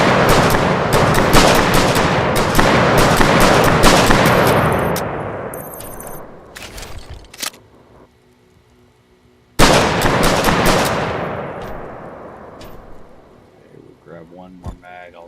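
Rifle fire in the Hiraeth demo game, a long sustained string of loud rapid shots that fades into echo, a pause, then another heavy burst trailing off.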